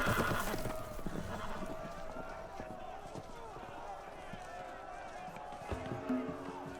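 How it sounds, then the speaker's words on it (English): Loose horses neigh and whinny amid hurried hoofbeats and scuffling, with voices in the background, the commotion loudest at the start. "The horses! They're loose!"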